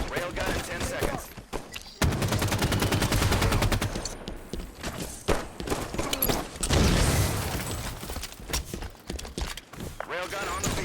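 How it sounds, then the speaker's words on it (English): Railgun fire and other weapon shots in the video game Halo 5 make dense, loud bursts of gunfire and booms throughout, under voices speaking. "Railgun on the field."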